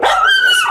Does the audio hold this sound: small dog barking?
yes